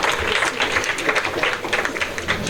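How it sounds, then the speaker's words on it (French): Audience applause at an Independence Day ceremony in the sub-prefecture of Satama Sokoro, Côte d'Ivoire, heard as a steady, dense outdoor clapping of moderate loudness throughout, with no talk over it. "On applaudit."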